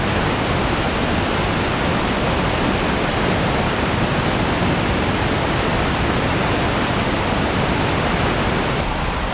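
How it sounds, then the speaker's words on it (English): Iguazu Falls roars up close, a steady, dense wash of loud broadband noise that holds unbroken for the whole stretch with no voices over it. "here's the closest you can get to the waterfalls right here"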